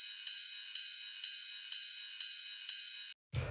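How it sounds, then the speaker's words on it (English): Simple drum machine ride cymbal from an atmospheric house track, a bright, thin metallic tick repeating evenly about twice per second, each hit decaying quickly, six strikes in a row before a brief gap. "And yeah, so this is just a simple ride cymbal."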